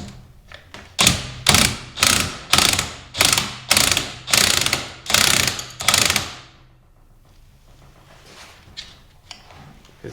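Ratchet wrench removing ring gear bolts from a transmission differential during an Accord gear set swap into an RSX Type S gearbox: about ten loud, evenly spaced bursts of ratcheting clicks close by, then a quiet tail.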